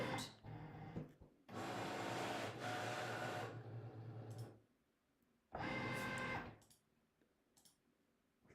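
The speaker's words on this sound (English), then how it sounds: "Now the machine is going to be reading the registration marks." A Cricut cutting machine loading a mat and reading registration marks before cutting printable iron-on for a T-shirt: two loud mechanical whirring bursts of motor movement, separated by quieter stretches, with no talk.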